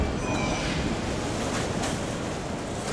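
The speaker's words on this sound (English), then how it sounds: "From here we go underground, entering the bright depths of the city, the subway, pride and joy of the capital." A subway train in Yerevan, Armenia's capital, gives a steady loud rumble and roar from its wheels running through the tunnel, broad and unbroken, with a faint brief squeal riding on top early on.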